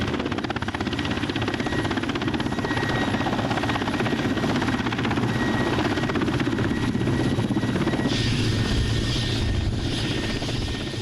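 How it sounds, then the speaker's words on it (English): A helicopter landing on the muddy earth of Lyakovsky Island in the Arctic tundra gives a loud, continuous rotor chop and turbine whine that holds steady throughout, with no voices over it. "The helicopter touches down on the muddy Lyakovsky Island earth."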